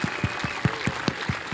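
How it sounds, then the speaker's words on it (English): A few people clap in a loose, uneven rhythm, scattered hand claps about five per second, close by and moderately loud, more like a small group than a big crowd. "let's just have a massive round of applause"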